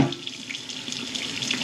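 Tap water runs hard into a cooking pot being filled for a turkey-leg Sunday dinner, a continuous close splashing stream with no voices.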